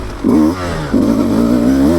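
A 2024 Beta 200 RR Race Edition dirt bike engine revs up twice in quick succession, a loud, buzzing rasp that rises and falls close by.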